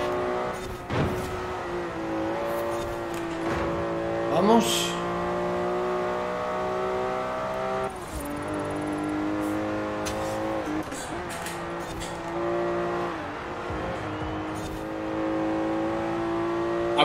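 A racing car engine in the video game Forza Horizon 4 revs hard and steadily, its pitch climbing and dropping through several gear changes, with a brief spoken word over it.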